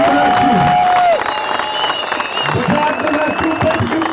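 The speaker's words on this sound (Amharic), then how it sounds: "የማያቋርጥ ጭብጨባ እንድትሰጡኝ እፈልጋለሁ" A crowd at a Karamara commemoration event breaks into loud, dense, sustained applause mixed with cheering, with a clear held tone at the very start before the clapping continues steadily.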